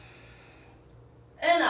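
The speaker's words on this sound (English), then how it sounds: "breathe in" A deep breath drawn in during a guided cleansing breathing exercise, a faint quiet lead-in followed by a sudden loud, airy inhale at the close, near and alone.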